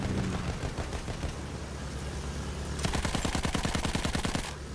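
Rapid automatic gunfire in the Battlefield video game beta: dense bursts of machine-gun fire, with a sharper, faster rattling stretch in the second half, steady and fairly loud with no talking.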